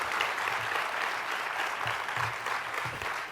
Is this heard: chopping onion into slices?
no